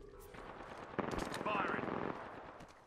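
Automatic gunfire in a first-person shooter video game, a dense burst of rapid shots mid-clip over steady game ambience, fairly close and loud.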